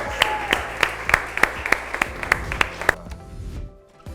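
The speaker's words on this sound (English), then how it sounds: "let's give Jacob another rousing round of applause" Applause at a school prize ceremony at St Paul's School: a dozen crisp, close claps land in a regular rhythm over a softer spread of clapping, then fade out abruptly near the end.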